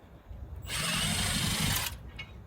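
A power drill runs in one short, loud whirring burst while removing a part during safety switch replacement on a Grasshopper mower, stopping abruptly after about a second.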